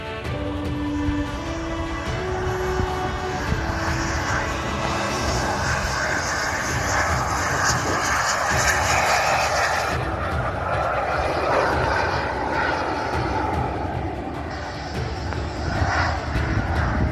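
Two model L-39 jet aircraft taking off at a model aviation show, a loud continuous turbine roar and whine that swells and shifts over the whole stretch, heard outdoors without talk.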